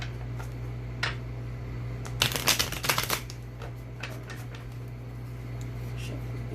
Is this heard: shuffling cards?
yes